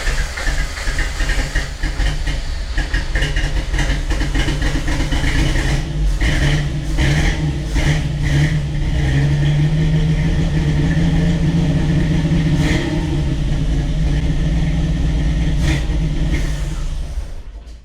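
A Jeep Wrangler YJ engine runs with freshly advanced timing, a loud, steady idle with dense rumble and hiss. The running holds throughout with brief rough pulses and a rising tone partway through.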